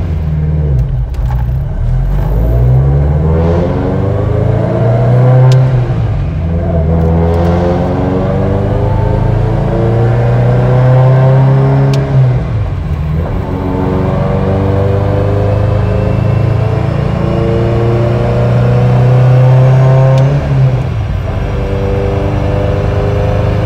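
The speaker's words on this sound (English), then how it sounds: "let's go ahead and do a high boost pull on the dyno so you guys can see what this thing sounds like from inside the car." A 900 hp Subaru STI engine runs a high-boost dyno pull, heard loud and close from inside the car as a continuous roaring drone that sweeps up through the gears, with brief dips at each shift.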